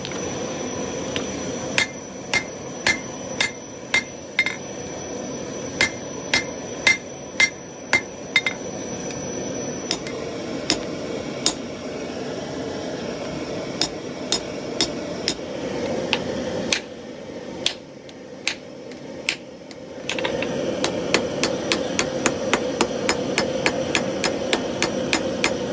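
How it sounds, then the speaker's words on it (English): Hammer blows ring out on a scrap-pile Damascus steel billet being forge welded, sharp metallic strikes coming in quick irregular runs with short pauses, close and loud, and a denser flurry toward the end. "we'll forge weld all that together and draw it back out"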